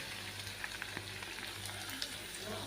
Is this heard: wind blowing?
no